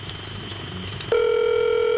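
Telephone call being placed, with soft dialing tones followed by a steady, unbroken electronic line tone that holds to the end, heard close and clear.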